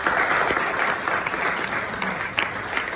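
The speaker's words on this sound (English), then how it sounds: "A round of applause, please." An audience at a founders' community pitching event claps steadily, dense applause filling the room for a few seconds without anyone speaking.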